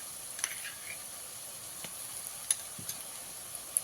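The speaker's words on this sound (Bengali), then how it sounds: "আদা রসুনটাকে খুব ভালো করে ভেজে নিতে হবে" Ginger-garlic paste frying in oil over browned onions for potol chingri, a quiet continuous hiss with occasional soft clicks and stirring taps, no talking.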